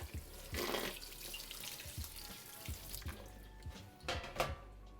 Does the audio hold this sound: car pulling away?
no